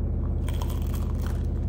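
Bite into a crunchy custard-filled pastry at a cafe in Padua, Italy, close and dry crackling crunches over a steady low hum.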